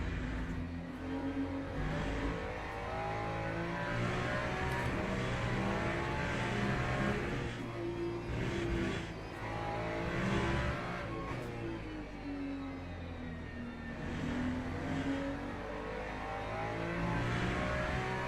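Race cars, including LMP2 prototypes, lap the Qatar circuit in the sim racing game Le Mans Ultimate, their engines droning continuously and revving up and down as they pass.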